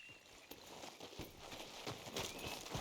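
A horse's hooves clip-clop at a steady walking rhythm in the Red Dead Redemption 2 video game. The steps sound moderately close and come over a soft outdoor ambience.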